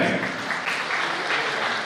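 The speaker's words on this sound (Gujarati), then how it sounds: "તાળીઓ વધાવી પડે" A crowd claps continuously, a dense, even patter of applause throughout.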